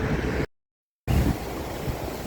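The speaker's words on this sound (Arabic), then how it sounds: "صوت الامواج عالي جدا جدا، يعني جدا عاليه جدا" Loud sea surf and gusting wind on the Alexandria shore in winter, a continuous roar with heavy wind buffeting the microphone, broken by a brief silent gap.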